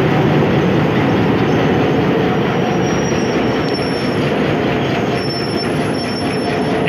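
Passenger train pulling out of a station on the Multan to Sanawan line, a steady loud rumble of rolling wagons with high metallic wheel squeal running throughout, no voices.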